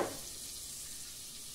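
Garlic and onion sautéing in butter and olive oil in a pan, giving a steady, soft, even sizzle that holds at a constant low level after a brief initial hiss, with no voices.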